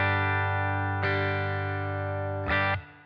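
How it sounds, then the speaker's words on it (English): A clean electric guitar chord from an Ibanez AS73 hollow-body guitar through a Blackstar ID:X 50 amp rings out sustained, struck again about a second in and once more near the end before being cut short. "Clean tones would sound a little bit like this."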